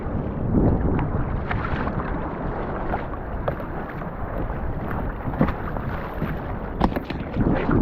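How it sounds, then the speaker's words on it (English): A Viking Profish GT kayak being paddled, water sloshing and splashing under steady wind buffeting at close range. "Start paddling."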